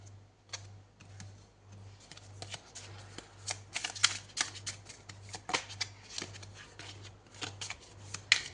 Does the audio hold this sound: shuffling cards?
yes